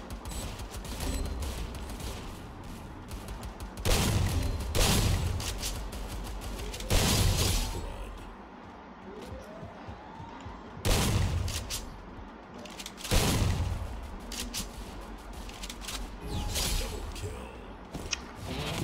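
A grenade is thrown and explodes during a Free Fire Clash Squad match, with several loud, sharp bursts spread through the stretch and dense gunfire and game effects continuing between them.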